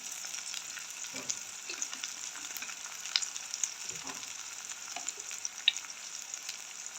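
Mustard and fenugreek seeds sizzle steadily in hot oil for a Jaffna tin fish curry, a continuous bright frying hiss with occasional soft stirring scrapes and small pops, close by and with no voices.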